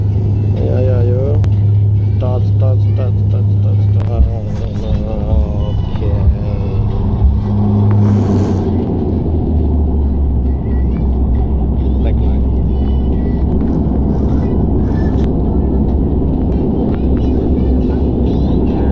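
Inside a passenger airplane landing at Biratnagar airport, a loud steady engine roar and rumble fill the cabin, with a voice talking early on before the noise shifts lower and heavier on touchdown.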